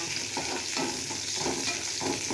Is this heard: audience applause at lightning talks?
no